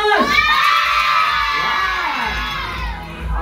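Children at a birthday party clapping hard and shouting together, a loud, continuous burst of cheering and applause close by, with no break in the noise.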